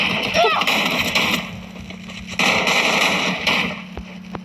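Explosions in the video game Free Fire go off in a few booming bursts over busy game sounds, with a voice talking underneath.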